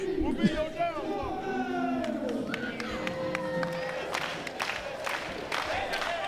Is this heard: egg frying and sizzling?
no